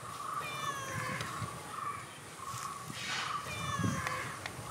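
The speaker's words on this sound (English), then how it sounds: "What sound does a cat make?" Domestic cat meowing repeatedly in a farm setting, several drawn-out calls at a steady pace, close and clear over a constant background hum.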